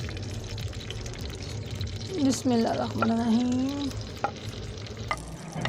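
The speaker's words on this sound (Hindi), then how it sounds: "अब हम इसमें प्याज डाल देते हैं।" Chopped onions go into about one and a half spoons of hot oil in a pan for chicken korma, bursting into a loud sizzle midway that settles into steady frying, with someone speaking briefly over it.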